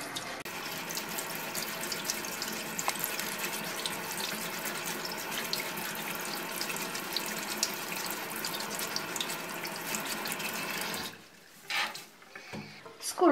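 Tap water runs steadily into a kitchen sink while a lemon is washed and scrubbed under it, a continuous close splashing rush that stops near the end, leaving a few brief drips and clatters.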